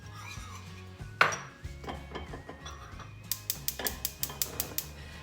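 Quick clinks of a utensil against a bowl as omelet sauce is stirred, a few scattered taps at first, then a brisk run of sharp rhythmic knocks, close and moderately loud.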